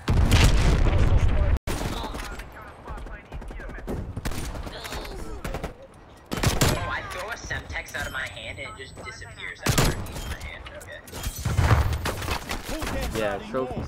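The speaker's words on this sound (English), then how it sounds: "A thermal M60 in the window that's shooting at my teammate." Gunfire and explosions in Call of Duty, including M60 machine gun fire from a thermal-scoped gun in a window, with loud bursts and booms under a player talking.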